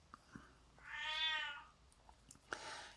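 A single drawn-out, upset meow from a cat wanting her dinner, rising and falling over about a second at moderate volume, followed by soft handling noises and a brief scrape, with no talking.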